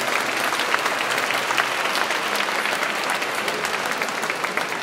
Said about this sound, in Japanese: 2人の選手に大きな拍手をお送りください。